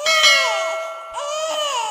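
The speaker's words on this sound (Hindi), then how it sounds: "बच्चा किधर रो रहा है? इधर से आवाज आ रही है." A baby wails in two long, loud, sustained bursts in the horror game Infliction, a bright ringing tone under the cries, heard close and with no talking.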